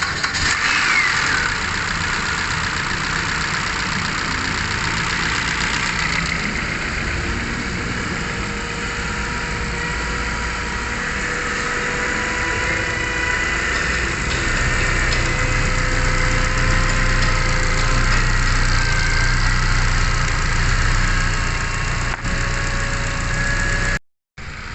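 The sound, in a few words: Kia Picanto car engine starting and idling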